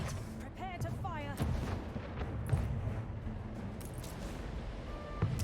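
Ship fleet cannon fire in the naval strategy game Anno 1800, a series of muffled booming shots over a continuous rumbling battle bed, with faint game voices and effects mixed in.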